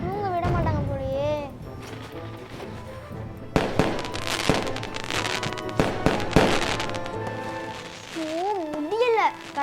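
Rapid sharp New Year firecracker bangs crackle through the middle, while a voice speaks before and after the explosions.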